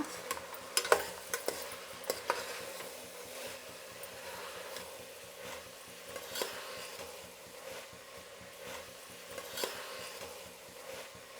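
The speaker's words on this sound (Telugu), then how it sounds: "ఇప్పుడు దీన్ని కలుపుకునేద్దాం బాగా" Brinjal pieces with turmeric and seeds are stirred in a pan, with soft scraping and occasional light clinks of the spoon against metal over a faint, steady frying hiss. The stirring is quiet and close.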